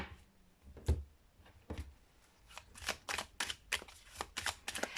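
A deck of Oracle de Belline cards is shuffled by hand close up, a few soft riffles and taps at first, then a quicker run of brisk flicking shuffles, quiet and with no talking.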